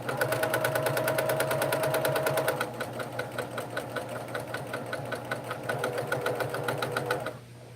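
A sewing machine runs fast and steady, its rapid needle rhythm close and loud, then slows slightly and stops at the end while stitching a rolled hem on a quilt.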